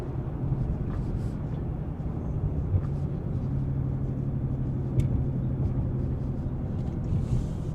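A 2024 Ford Mustang GT engine drones low and steady while driving, heard from inside the cabin with road rumble and no talk.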